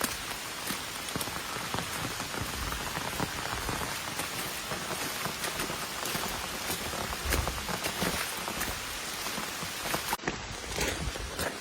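Steady, dense rain pours onto a soaked trail near the Vermont border on the Appalachian Trail, a continuous close hiss of drops with no voices.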